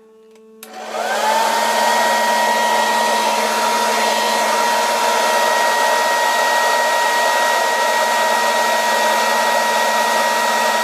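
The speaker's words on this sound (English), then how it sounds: "So the air is basically blasting onto the faceplate and probably going through the jack socket" A blower sends a steady, loud blast of cold air onto a Eurorack oscillator module, switching on abruptly and then holding a constant whooshing roar with a faint whining tone.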